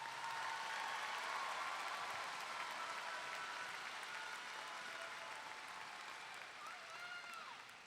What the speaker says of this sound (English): Let's give these graduates one more round of applause.